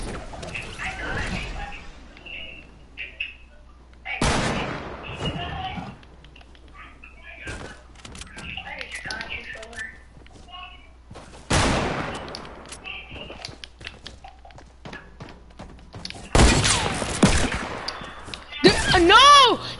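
Revolver shots ring out in a video game as several loud, sharp bangs, spaced apart with ringing decay, mixed with scattered thuds, clicks and bursts of other gunfire while people talk throughout.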